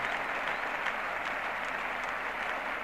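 Sustained clapping as the England Test side applauds West Indian batsman Viv Richards back to the pavilion in 1976, a dense, unbroken patter that holds level throughout.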